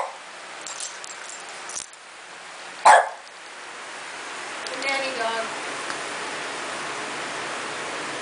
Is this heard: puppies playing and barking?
yes